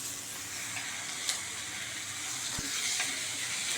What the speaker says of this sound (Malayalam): ഇത് നന്നായി ഒന്ന് വഴറ്റട്ടെ. ഉള്ളിത്തീയലിൻ്റെ ഉള്ളി ഇതപ്പോൾ നന്നായി വഴന്നു വന്നു.